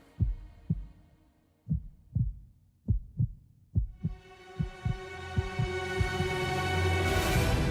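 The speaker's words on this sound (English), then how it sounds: "Heartbeat." A steady heartbeat sound effect opens a song, thudding about a dozen times in an even rhythm. Sustained music then swells beneath it and gradually takes over.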